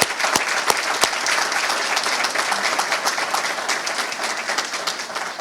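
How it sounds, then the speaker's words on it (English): Audience applause at a school district ceremony honoring campus teachers of the year: steady, dense clapping from a sizable crowd with a few sharp, close claps standing out, continuous throughout. "How about a round of applause for us?"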